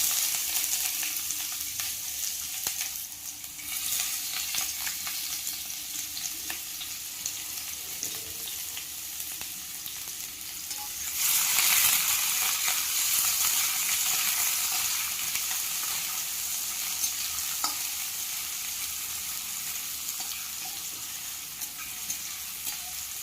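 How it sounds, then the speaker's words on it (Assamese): Chopped onions fry in two spoons of hot oil in a wok, a constant sizzle with stirring scrapes throughout, and the hiss swells louder midway as fresh contact is made. "এতিয়া মই কাটি থোৱা পিঁয়াজখিনি ভাজি ল'ম।"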